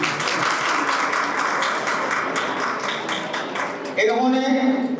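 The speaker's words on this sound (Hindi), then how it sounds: "बहन पारुल राजपूत, पारुल राजपूत, इनके लिए जोरदार ताली बजाएं।" An audience gives loud applause for student Parul Rajput at a chemistry coaching institute's annual function, dense clapping filling the space before a voice rises over it near the end.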